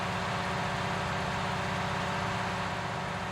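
A truck engine in a driving video game runs at a steady, even drone while hauling through hilly country in Slovenia, its RPM settled as the road flattens out; the low hum is continuous and fairly loud with no talk.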